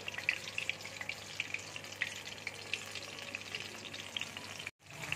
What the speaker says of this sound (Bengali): দেখো কলাটা ভাজা হয়ে গেছে।